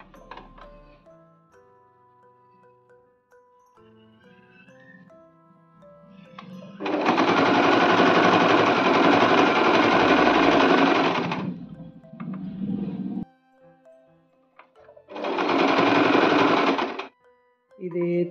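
Sewing machine stitching a soft quilt, running in two loud, steady bursts of rapid whirring, with quieter clicks and handling between them.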